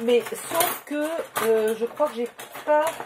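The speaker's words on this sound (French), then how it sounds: "Désolée pour le bruit, je fouille dans le tiroir." Metal objects clatter and jingle as items are shuffled around in a drawer, with someone talking over the rummaging.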